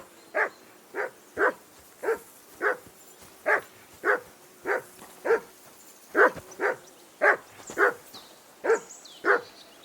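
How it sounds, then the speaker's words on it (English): A dog named Mutt in the medieval game Kingdom Come: Deliverance II barks repeatedly, about sixteen sharp, evenly spaced woofs at a steady rhythm, clear and fairly close against a quiet background. "Whistle at that mutt of yours to stop barking!"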